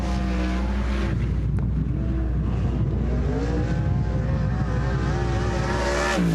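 A sprint car, number 23, runs a timed qualifying lap at Sunset Speedway Park on the Western Sprint Tour, its engine note rising and falling loudly against wind noise.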